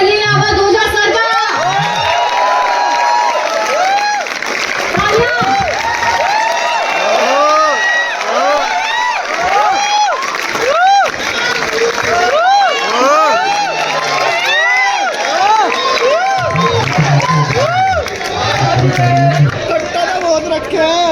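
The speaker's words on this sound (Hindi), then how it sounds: "अब और जोरदार तालियों से स्वागत करिए अवध ओझा सर का।" A large crowd in a stadium cheers, whoops and shouts in welcome of Awadh Ojha, a dense, loud, continuous roar with voices rising and falling over nearly twenty seconds and chatter mixed in.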